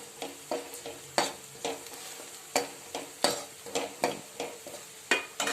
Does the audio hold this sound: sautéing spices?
yes